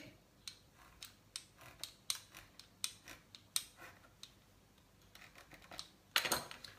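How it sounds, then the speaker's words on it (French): Almond-paste dough being cut on a floured surface, a run of soft, evenly spaced taps and snips roughly every half second, closing with a louder scraping rustle, quiet with no talking. "On va découper."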